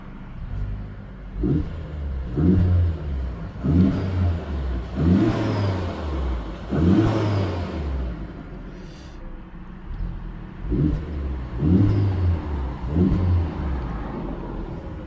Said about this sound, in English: I did do the intake mod, and this is how it sounds.